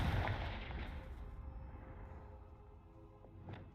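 A Confringo blasting spell from the Hogwarts Legacy video game goes off as a booming explosive burst, followed by a rumbling, fading tail and a small second crack near the end.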